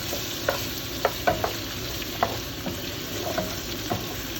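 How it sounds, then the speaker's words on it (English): Spicy potatoes with chilli, turmeric and curry leaves sizzling in a pan, a moderate crackling hiss with a few distinct spatters and stirring knocks scattered throughout. "It's all frying."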